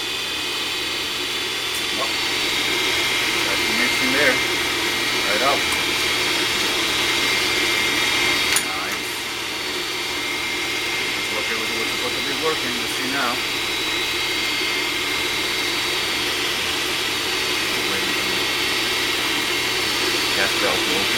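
A Rheem unit runs with a steady low mechanical drone and airy whoosh as its belt turns, close and continuous, with a few faint knocks and people talking over it.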